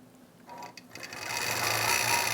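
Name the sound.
quilting machine stitching a pumpkin seed fill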